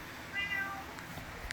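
A house cat meows to be let out onto a deck on a cold, rainy day, one clear drawn-out meow up close followed by faint indoor rustling, no talk.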